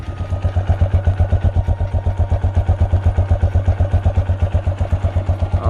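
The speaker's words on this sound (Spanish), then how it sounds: "Y aquí el sonido del escape." A motorcycle engine idles through its exhaust after its first 1000 km, with slightly audible valves needing adjustment, a close, loud, steady pulsing putter with even rapid beats and no talking.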